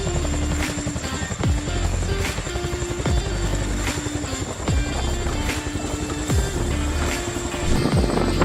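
A firefighting helicopter battling forest fires roars close and loud, its rotor chopping in a steady throbbing rhythm over continuous engine whine, with periodic sweeping swells as it passes.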